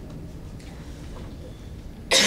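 Low background murmur, then a single sharp cough bursts out loudly near the end.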